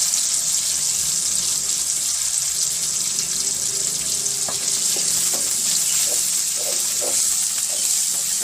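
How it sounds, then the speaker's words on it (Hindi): Onions and cumin fry in a pan with a loud, constant close sizzle and hiss, with light stirring scrapes and taps scattered through, and no one speaking. "इसको ज़्यादा डार्क ब्राउन नहीं करना, बस इसको हल्का सा बस 1 से 2 मिनट तक फ्राई करना है प्याज को"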